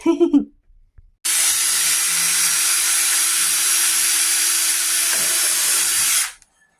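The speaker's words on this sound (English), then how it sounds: "My hubby's pre-drilling some holes" A power drill whirs steadily for about five seconds at close range, pre-drilling holes in wood, a loud continuous buzzing that spins down at the end.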